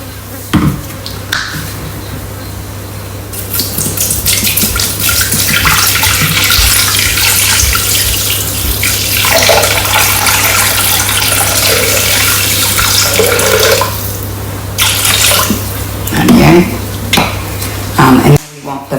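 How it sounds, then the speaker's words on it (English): Water pouring steadily from a tap into a Thermomix bowl for a potato salad, a loud continuous splashing rush that stops near the end, with light kitchen clatter. "We want 500 grams of water."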